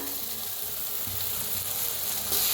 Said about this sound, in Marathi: मिक्स करून ह्याला मी भाजून घेऊया तर बघा सगळं तेल आटलेलं आहे